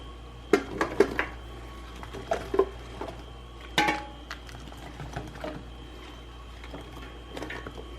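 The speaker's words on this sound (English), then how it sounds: "So I'm just going to scatter these in here." Chunks of onion and pepper drop into a roasting pan of garden tomatoes for homemade sauce, making irregular close clunks and soft thuds that come in small clusters, then thin out.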